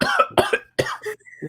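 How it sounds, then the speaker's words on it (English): A quick run of four harsh, close coughs in succession, loud and chesty, with a brief throaty rasp trailing off at the end. "Why you coughing so much?"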